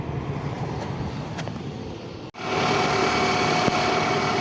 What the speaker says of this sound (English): The AC pump is spinning now, so now we can go ahead and pull in the rest of the cans.